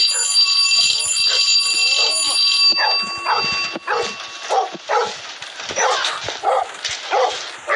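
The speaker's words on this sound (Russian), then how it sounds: "к собаке не подходить, потому что она будет нашу ногу кусать" Dog barking repeatedly in a video game, sharp mid-range barks in a steady run over a constant high electronic alarm-like tone, someone talking over it.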